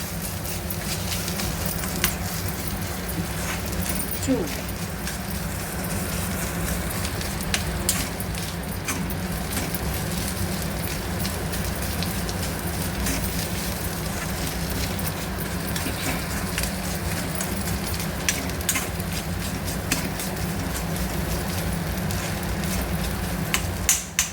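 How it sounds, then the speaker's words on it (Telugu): Steady oil sizzle of frying in a pan while a spice paste cooks for a bitter gourd and tomato curry, a continuous broad crackle with small pops throughout, close and even, with no talking. "పచ్చివాసన పోయేంతసేపు ఫ్రై చేయాలి."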